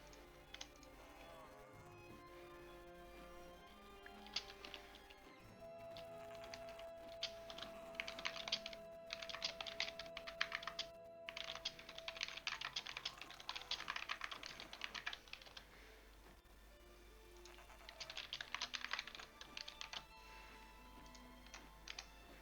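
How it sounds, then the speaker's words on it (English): Typing on a computer keyboard: quiet, rapid clicking keystrokes in bursts with short pauses, soft and close over a low background hum. "Okay, just typing it now."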